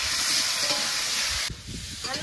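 Potato pieces fry in a pan for a thin riverfish curry while being stirred, producing a close, loud sizzle with scraping strokes that drops in level midway and then carries on.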